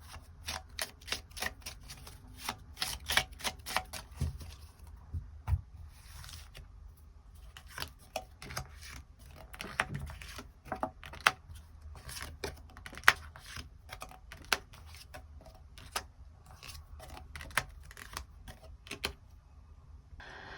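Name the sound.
shuffling and drawing extra tarot cards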